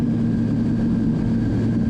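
An RC model airplane's engine drones steadily and fairly loud as it flies over, a constant buzzing hum with a strong tonal pitch that holds through the brief moment.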